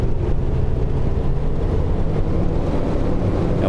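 Low, steady droning rumble of a Grumman Avenger's radial engine idling in MSFS 2024, continuous and even throughout with no voices.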